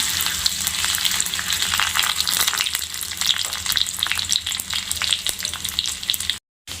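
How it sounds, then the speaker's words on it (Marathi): Finely chopped ginger and garlic sizzle and fry in hot oil, a steady close crackling with occasional stirring scrapes, cutting off briefly near the end. "त्यामध्ये आपण बारीक कापून घेतलेला आलं लसूण टाकूया। ते चांगले लालसर होईपर्यंत परतून घेऊया।"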